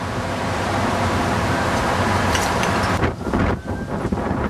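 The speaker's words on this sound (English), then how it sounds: "Windy out here" Strong wind gusts buffet the microphone at an outdoor bottle dig in a loud, continuous roar, briefly dipping and sputtering toward the end.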